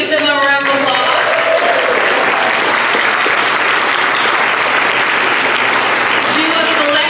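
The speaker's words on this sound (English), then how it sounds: "give them a round of applause" An audience applauds a jazz band at a city State of the City event, with steady, dense clapping that fills the room throughout, loud and continuous without a break.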